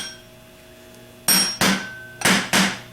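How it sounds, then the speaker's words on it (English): A hammer strikes the metal end plate of a 10MT starter four times, in two quick pairs of sharp, ringing taps, close and loud in a quiet workshop. "give it a tap on the top with a hammer and it comes right off"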